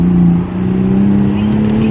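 Toyota Supra 2020 with its factory exhaust revs loudly from inside the cabin, a steady droning engine note that dips briefly and then holds and climbs slightly.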